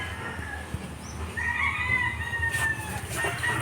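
Out on a farm, a rooster crows nearby in a long, drawn-out call over a background of clucking and low rustling.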